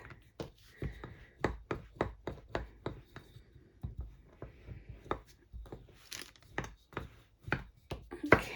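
Soft clay being rolled out by hand on a work surface, giving a steady series of close, quiet tapping and pressing thuds in a regular rhythm, with no talking.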